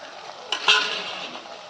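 A spoon stirs tomatoes and onions in a pan over a wood stove, giving a soft scraping swirl with a low sizzle beneath it, close and fairly quiet, with no talk.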